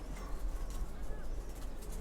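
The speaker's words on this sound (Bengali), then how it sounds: "খুবই সুন্দর কবুতর এইগুলো।" Pet pigeons of the Lalpatti and silver breeds softly cooing at home, a low murmuring coo running continuously under a faint room hum.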